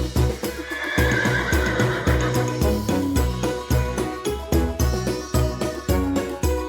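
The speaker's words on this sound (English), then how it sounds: "Horse." A horse neighs and whinnies loudly and close by, with rhythmic clip-clop hoofbeats running steadily underneath throughout.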